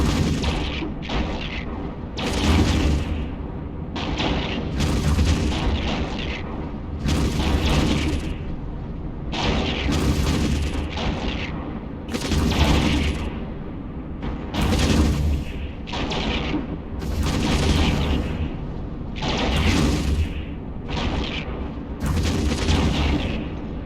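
Sentry guns in EVE Online fire in repeated heavy booming bursts about every couple of seconds, loud and steady over a continuous low rumble, with no talking.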